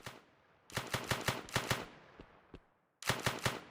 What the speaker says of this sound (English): all these are placeholders, like all the gunshots and stuff.